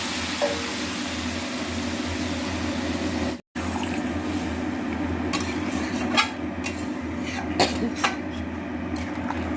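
Water poured into a simmering pan of thin katla fish curry with potatoes: a steady sizzling, bubbling hiss filling the clip, with a brief cut and a few faint clinks of utensils.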